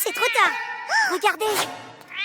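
A cat meows several times in rising and falling cries, close and fairly loud, interleaved with people talking in an animated cartoon.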